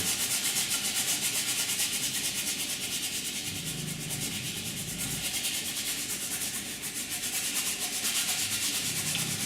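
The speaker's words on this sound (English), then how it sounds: "I'm just scrubbing that paint on. I'm not laying on a lot of paint." A paintbrush scrubs phthalo turquoise paint onto canvas, giving a continuous close, dry rasping rub with rhythmic back-and-forth strokes and no voices.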